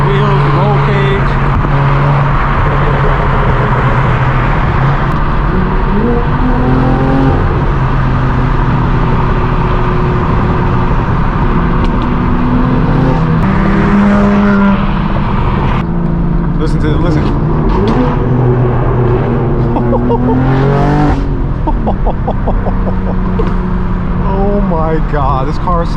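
Straight-piped BMW M4 G82 twin-turbo engine driven past low walls at a BMW M car meet, its loud exhaust drone and turbo whoosh echoing continuously up close, with people talking over it.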